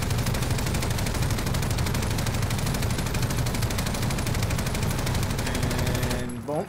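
LMG machine gun fire in Call of Duty: a loud, rapid, unbroken stream of automatic shots lasting several seconds before cutting off abruptly near the end.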